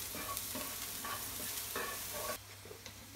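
Green chilies and garlic sauté in a pan for Cauliflower Manchurian, a soft, steady frying hiss broken by repeated scraping strokes of a stirring spoon, fairly quiet and without voices.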